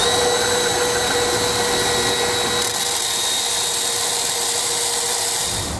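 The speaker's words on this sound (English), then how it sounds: "I'm gonna use a sanding bit and a drill just to open that up" A power drill spins a sanding bit to enlarge a hole in the frame of a 2019 Audi A3 during trailer hitch installation, a steady close, loud whine and grinding hum lasting throughout without talk.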